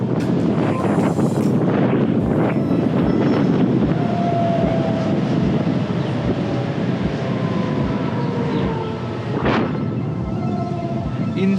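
An electric vehicle accelerates at full throttle in sports mode from a crawl, a steady loud rush of wind and road roar with faint rising whine tones, no voices.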